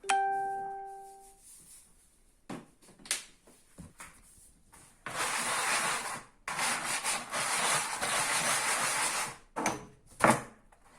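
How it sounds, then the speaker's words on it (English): Bare hands rub salt and seasoning into food for a jerk cook, making rough rasping, scrubbing bursts in two longer stretches, with scattered short rubs and touches in between and a brief tonal chime at the start. "Rub that all in there"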